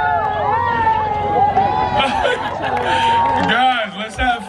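A crowd at an Alzheimer's charity walk in Liberty State Park cheers, chatters and laughs excitedly as an autographed ball is tossed into it, with voices overlapping throughout.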